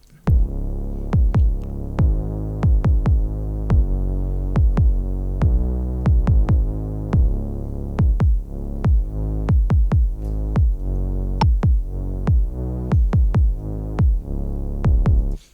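A thumping kick drum repeats while a bass sound ducks under each hit through sidechain compression and swells back between them, giving a steady pumping rhythm.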